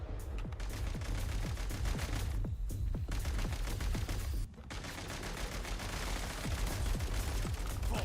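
Enemy gunfire in Genshin Impact rattles in dense, continuous volleys of rapid shots that keep going with only a brief break, loud and alone without speech.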